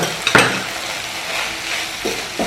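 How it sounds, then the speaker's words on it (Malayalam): Egg stirred into frying vegetables for a quick Chinese-style egg bhurji, with a steady sizzle throughout and a few sharp utensil scrapes against the pan near the start and again toward the end. "നമ്മൾ നേരത്തെ എടുത്ത് വെച്ചിട്ടുള്ള മുട്ടയും കൂടി ഇതിൽ ചേർത്തി ഇളക്കിയെടുക്കുക"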